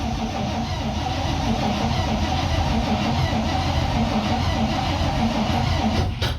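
A 1955 Cadillac Coupe DeVille engine, sitting for 20 years, cranks and churns steadily as it tries to start, a loud continuous mechanical drone with no clear catch, up close.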